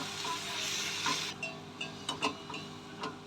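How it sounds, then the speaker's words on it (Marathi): Methi (fenugreek) greens being stirred and sautéed in a pan, with a broad steady hiss from the pan followed by a few sharp clinks and scrapes of a spatula against metal. "आता हिला परतून घ्यायचे"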